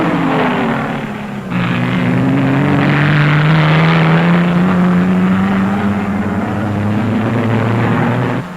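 The number 5 Jaguar sports car races at the 1957 Sebring 12 Hours, its engine a loud, sustained roar close by whose pitch dips and then climbs steadily through the pass.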